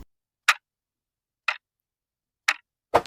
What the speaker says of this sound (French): toujours entendre ce bruit, on devrait dire cette musique qui fait tic-tac, tic-tac, tic